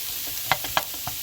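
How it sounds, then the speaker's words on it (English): Peppers and onions stir-fry with elk meat in a hot pan, a close, steady sizzle broken by several sharp spatula scrapes and taps. "Let that stir fry for a little while until the onions and peppers start to get translucent"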